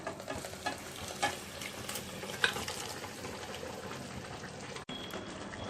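Cooked mutton is stirred into a ground gongura (sorrel leaf) paste, making a quiet, steady simmering sizzle with a few soft stirring scrapes and a brief clack near the end.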